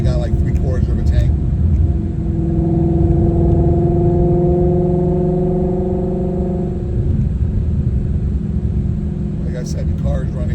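A Procharged Ford Mustang GT350 droning along under steady cruise, a loud low engine rumble with a sustained whining harmonic tone that rises and fades midway, heard from inside the car.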